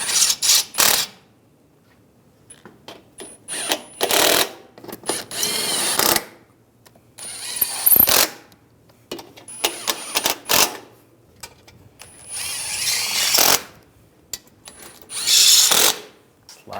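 Coolant reservoir bolts on a 2013-2016 Dodge Dart 2.4L being tightened, with loud close bursts of rapid mechanical clicking or whirring separated by short pauses, and no talking.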